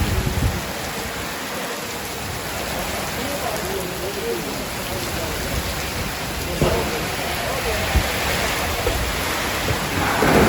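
Heavy stormy rain with thunder pours down steadily in a village, a dense hiss with low rumbles underneath, while voices are faintly audible within the downpour.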